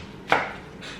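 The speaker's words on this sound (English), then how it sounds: "So we're going to cut off the stem" A knife slices through the stem end of an onion in one short, crisp cut near at hand, with no talking.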